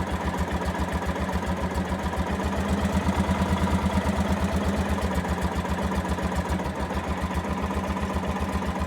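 A Kubota RTV400Ci utility vehicle engine runs with a steady, close pulsing throb that swells slightly in loudness partway through as it picks up speed from a low idle, with no voices.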